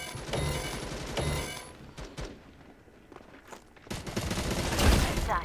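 Rapid bursts of gunfire in the mobile shooter MATR1X FIRE, dense volleys at the start and end with quieter scattered shots between, loud and close, under a voice commenting.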